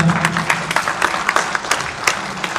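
An audience at a Hindi book launch for 'Talaash Sahil Ki' claps loudly and steadily, a dense run of applause that carries on throughout without letting up.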